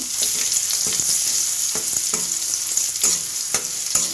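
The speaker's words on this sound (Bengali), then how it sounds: "আর যে গ্রেট করে রেখেছিলাম রসুন সেই রসুনটাও ছেড়ে দিচ্ছি এটাকে একটু হালকা লাল লাল করে ভেজে নেব" Grated garlic sizzles steadily in hot oil while being browned for a Bengali eggplant dish, with a constant close hiss and occasional soft stirring knocks throughout.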